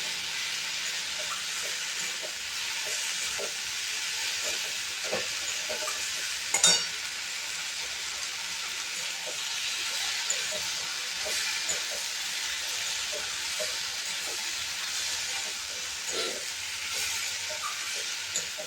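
Tomato curry gets stirred in a frying pan, a continuous soft sizzle and steamy hiss with repeated light scrapes of a spoon and one louder clatter partway through.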